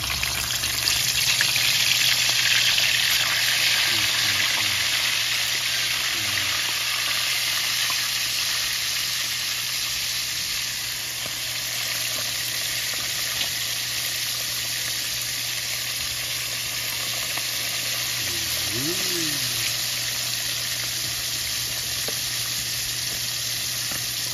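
Marinated fish fries in hot oil in a pan, a steady close sizzle running throughout with occasional stirring clinks, and no talking.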